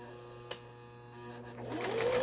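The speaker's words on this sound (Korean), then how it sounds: "이 재봉틀이 직선 바느질과 예, 지그재그 바느질이 가장 잘 나와야만 되는 겁니다." A Toyota home sewing machine stitches at a steady mechanical hum with a single click near the start, then speeds up into a louder, rising whir toward the end.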